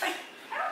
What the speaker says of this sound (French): C'est allô à notre nouveau puppy!